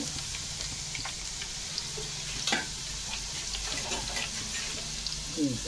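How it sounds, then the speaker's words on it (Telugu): Green chillies and onions sizzle and fry in a pan for a Telugu fenugreek-leaf fish curry, a steady close crackle with occasional stirring clatter. "పచ్చిమిర్చి ఉల్లిపాయలు వేగిని దోరగా, మరీ ఎక్కువగా వేయకూడదు."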